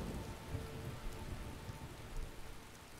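Rainfall in the video game Skyrim pours down as a dense, steady hiss, with faint low rumbles beneath, heard alone without talk.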